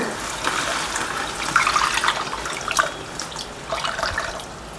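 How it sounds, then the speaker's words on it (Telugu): Water poured into a pot of tamarind fish broth made with raw tamarind, a faint continuous trickle and splash with small uneven surges, heard alone. "ఈ పులుసుతో పాటు ఇప్పుడు కొన్ని వాటర్ కూడా పోసుకుందామండి."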